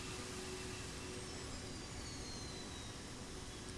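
An Airbus A321neo APU in a flight simulator game: a steady, loud jet-turbine whine and broadband roar hold unchanged throughout, with a faint high tone drifting across the top, and no voices.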